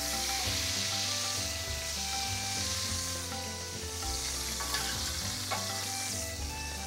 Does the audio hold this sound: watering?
no